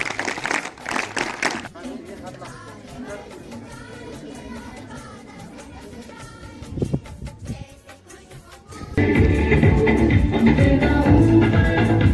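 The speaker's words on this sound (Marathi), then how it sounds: "आपल्या विद्यालयातील सर्व शिक्षकांसाठी एकाच जोरदार टाळ्या वाजल्या पाहिजे" Audience at a school send-off event for tenth-grade students breaks into loud, dense clapping for the school's teachers, a sudden sustained burst that follows a stretch of talk over a microphone.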